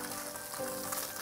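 Firm tofu pan-frying in olive oil gives off a steady, dense sizzle that hisses continuously and evenly, close by, with no talking.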